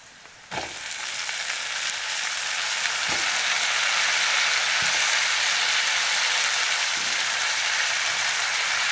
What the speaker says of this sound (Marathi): गॅस मोठा करून आपण वांग व्यवस्थित असं परतून घेऊया तेलावर